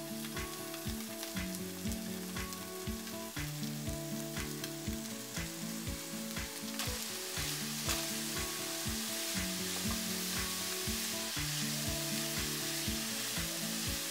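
Chopped ingredients for Chinese rice sizzling in a pan after the meats have been fried, a loud, even crackle with rhythmic stirring strokes repeating throughout, close up and uninterrupted by speech.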